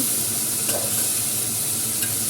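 Chopped onions fry with ginger garlic paste in a hot pan, giving a dense, even, close sizzle with light stirring scrapes and no voices.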